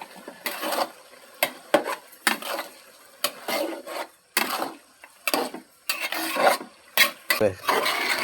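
Vegetables and rice for khichuri are sautéed in a pot, with a spoon scraping through the mix in rapid, uneven strokes. Each scrape is a short rasping burst separated by brief pauses, close and fairly loud over a faint sizzle.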